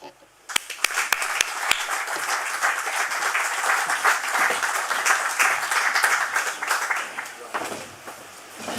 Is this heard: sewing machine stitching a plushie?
no